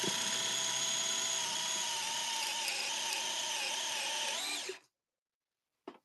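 A power drill bores with a large 7/8 inch spade bit: a loud, steady high whine runs for nearly five seconds and cuts off abruptly, followed after a pause by one short burst.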